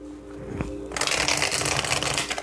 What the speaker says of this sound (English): I'm shuffling these cards